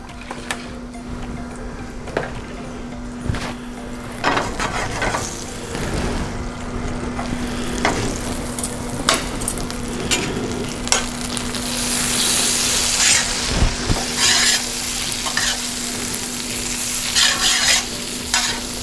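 Butter sauce for a green Thai curry sizzling in a pan and stirred continuously, a loud close frying hiss with scraping and clinking of the utensil that grows busier toward the end, no voices.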